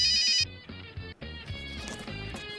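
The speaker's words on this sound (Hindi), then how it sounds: "अरे किसका फोन आ गया?" A telephone rings in repeated electronic bursts, loud and close, with no talking over it.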